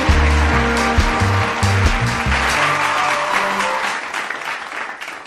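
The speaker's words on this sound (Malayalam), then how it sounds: "നിന്നൊരു കയ്യടി കൊടു." A gathering aboard a houseboat breaks into loud, sustained applause, many hands clapping together over a low rumble, then fading out after a few seconds.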